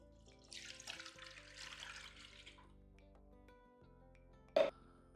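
Water pours into a cooking pot for kachamak, a broadband splashing rush for about two seconds that fades, followed later by a single sharp knock.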